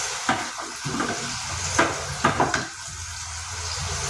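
Paneer fries over a low flame in a pan, giving a steady close sizzle broken by a few sharp scrapes and taps of a spatula stirring the pieces.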